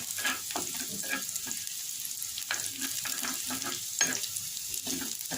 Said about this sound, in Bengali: কিন্তু কাঁচা পেঁয়াজ খেলে আমার মুখে গন্ধ লাগে ওই জন্য আমি পেঁয়াজটা একটু ভেজে নিচ্ছি